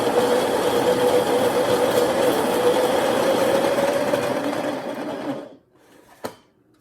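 A coffee grinder whirs steadily as it grinds beans coarse for cold brew, a loud continuous buzzing drone that winds down and stops near the end, followed by a brief knock.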